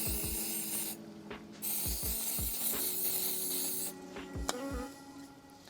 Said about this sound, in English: Got some brake cleaner here.